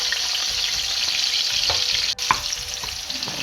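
Onions frying in heated palm oil, a steady close sizzle with faint crackles and a brief stir, no voices.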